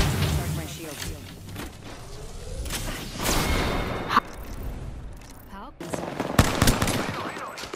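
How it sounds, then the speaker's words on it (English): Automatic weapon fire in the video game Apex Legends rattles in repeated bursts mixed with whooshes and impacts, while players talk over the shooting. "I'm taking shots."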